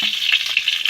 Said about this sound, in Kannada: ಎಣ್ಣೆ ಹಾಕೊಂಡ್ರೆ ಹಂಚು ಕಾದಕ್ಕೆಲ್ಲ ಅದಕ್ಕೆ ಅದು ಸಿಡಿ ಹಾಕತೈತಿ